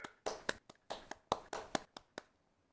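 Bare hands clap about ten times in a quick, uneven rhythm, close but quiet, with no voices.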